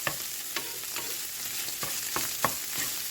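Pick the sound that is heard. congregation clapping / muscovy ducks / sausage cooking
sausage cooking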